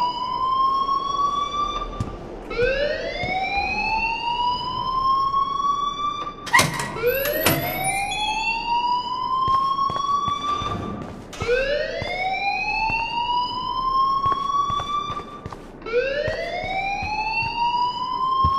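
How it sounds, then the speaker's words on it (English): A rising, wailing alarm siren repeats in long sweeping cycles in the Life is Strange video game, loud and steady with no talk over it. "please turn off that alarm"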